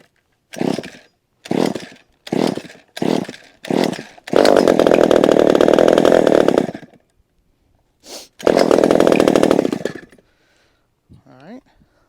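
A vintage chainsaw with an automatic oiler, loud and smoky, gets five sharp starter pulls, then roars up close for a couple of seconds, goes quiet, and snarls into a second loud burst.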